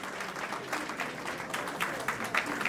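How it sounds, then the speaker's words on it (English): Audience applause at a convention grand ball, a short burst of scattered clapping at moderate distance with a crowd murmuring underneath. "Please give her a big hand clap."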